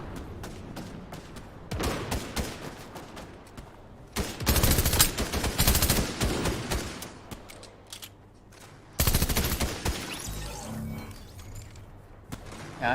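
Bursts of Uzi fire in Fortnite Chapter 3 Season 1 gameplay, rapid automatic rattles that come in several loud clusters separated by quieter gaps, with other game sounds in between.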